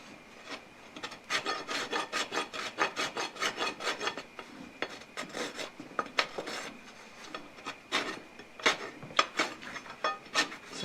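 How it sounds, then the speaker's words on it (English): A hand rasp files down a livestock guardian dog's foot in repeated short rhythmic strokes, close and fairly loud, with brief gaps between bursts of scraping. "So I'm not crazy about this rasp"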